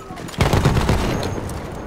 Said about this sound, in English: I think Pub's shooting him right now.